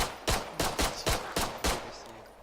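Gunfire from the zombie shooter game Contagion: about six sharp, loud shots fired at an even, quick rhythm, each a broad crack with a short tail, with no talking over them.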